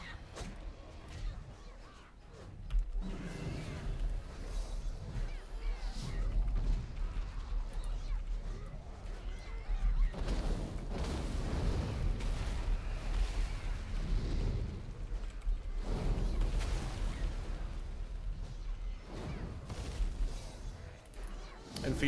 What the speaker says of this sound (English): See, the Horde demolishers will fire back